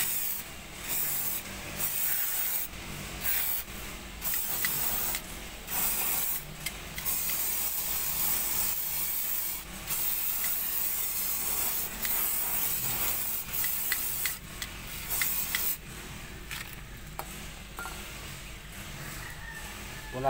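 Brake cleaner sprayed onto a brake disc: repeated hissing spray bursts of varying length in an irregular rhythm, close and moderately loud, broken by short pauses.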